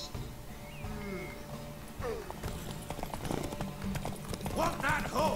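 Horse hooves clip-clop at a gallop in The Witcher 3: Wild Hunt, a steady rhythmic clatter mixed with game sounds and a soft whinny, while voices talk over it.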